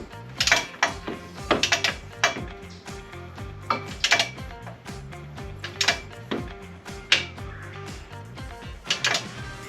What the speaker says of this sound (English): all we got left is to torque them down